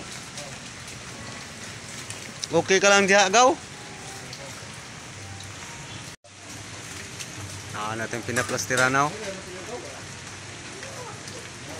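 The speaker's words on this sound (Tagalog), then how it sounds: "Maulan na panahon, walang humpay ang ulan dito" Steady rain patters on a surface throughout at a plastering work site, with two short bursts of conversation partway through and a brief dropout midway.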